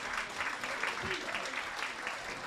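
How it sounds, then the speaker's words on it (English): Applause from an after-dinner audience honoring an inductee, a dense, steady wash of clapping throughout with voices mixed in underneath. "Let's give him a big round of applause"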